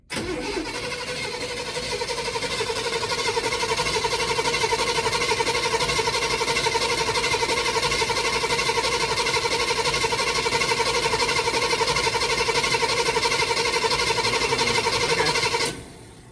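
Ramp truck engine fitted with a supercharger blower cranks and catches, then runs at a loud steady idle with a tonal whine for about fifteen seconds before cutting off abruptly.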